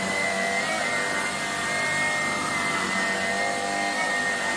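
Shark PowerDetect Pet Plus cordless vacuum cleaner runs continuously with a loud, steady motor whine and airflow rush, close and alone without speech.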